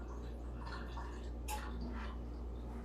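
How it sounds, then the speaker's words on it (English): Meatloaf juices are poured off into a pan, making quiet intermittent drips and light trickling over a low steady hum. "We can pour these juices off, and I'll do that."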